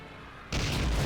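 Soviet anti-aircraft guns fire back in a Crimean beach assault video game, with a quiet rumbling background suddenly giving way to a loud, sustained burst of booming gunfire that continues to the end.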